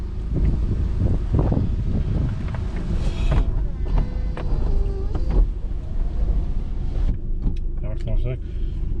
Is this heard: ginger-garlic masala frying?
no